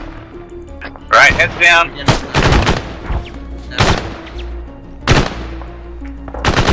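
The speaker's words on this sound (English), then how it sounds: "Yep, we're getting mortared." Mortar fire in the Arma 3 combat game: a string of loud, sharp explosive thumps at irregular intervals, with players talking between and over the blasts.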